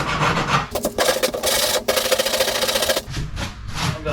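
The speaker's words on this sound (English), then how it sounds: "you don't want to hit these spots that are already too thin when you're filing" A hand file rasping over thin worn plastic on the hull of a jet sled boat, harsh rhythmic scraping strokes close up with brief pauses between passes.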